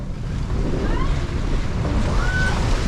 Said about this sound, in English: Finally got some wind around this place.